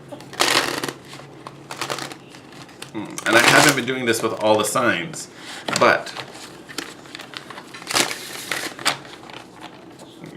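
A deck of tarot cards is shuffled in several short, crisp riffling bursts, with a person talking between and over the shuffles.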